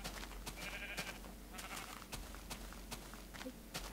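Sheep in the Minecraft video game bleat along a coastline, with several short game-style bleats recurring over a steady background hum, moderately loud and close.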